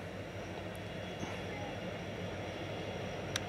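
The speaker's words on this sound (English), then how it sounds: "But y'all see the train coming, y'all." A train passes on a railroad as a steady, even rumble of wheels with faint high squeaks, heard from some distance with no talk over it.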